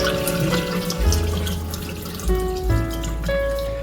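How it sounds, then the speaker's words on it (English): Raw chicken pieces are rinsed under running tap water in a sink. Water splashes and gurgles steadily and loudly throughout, with the pitch shifting as the meat is moved around under the stream. "No, this is not the washing process, this is just the rinsing process."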